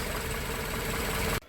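A warmed-up Volvo 740 engine idling at just under 1,000 rpm, a steady, close mechanical hum and rumble that cuts off abruptly near the end, no talking.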